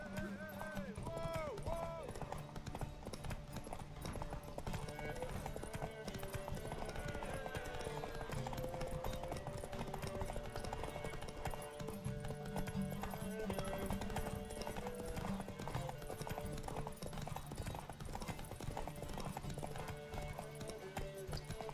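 A horse gallops in a race in The Witcher 3 video game. Rapid, rhythmic hoofbeats drum steadily throughout, with occasional neighs and voices talking over a busy game soundtrack.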